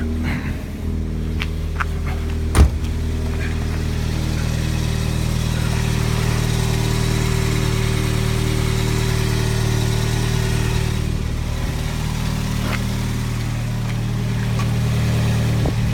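A car engine idles steadily with a low, even hum and rumble, close by, with one sharp click partway through and no talking.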